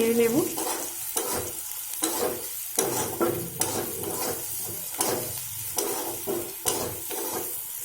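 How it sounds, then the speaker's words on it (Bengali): Masala macaroni pasta stirred and fried in a pan, with repeated scraping strokes of a spoon over a steady sizzle, close and fairly loud with no talking. "এটা 1 মিনিট একটু ভালো করে ভেজে নিতে হবে"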